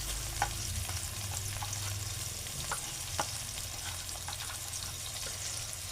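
Food sautés in a pan while being turned, a soft even sizzle with occasional light taps and scrapes of a spoon, fairly quiet and close with no voices.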